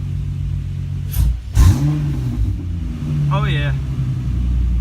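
A 2005-09 Ford Mustang with a WOTBOX flat-shift limiter revs hard in two quick bursts, then settles into a loud idle with another short blip, and a person talks briefly over it.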